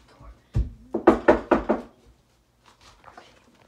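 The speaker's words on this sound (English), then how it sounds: "My neighbor's knocking at the door." A neighbor raps on a door with five quick, loud knocks in an even rhythm, followed by faint talk in the background.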